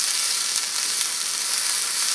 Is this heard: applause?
no